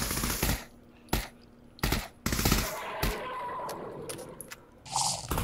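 Gunfire in a VR zombie video game: several sharp, separate bursts of shots a second or so apart, fairly loud, with quieter game noise between them.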